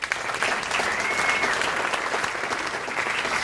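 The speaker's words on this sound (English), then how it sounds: "let me hear you clap if you have kids" A comedy roast audience breaks into steady, dense applause that holds at an even level for the whole stretch, a continuous wash of many hands clapping with no voices on top.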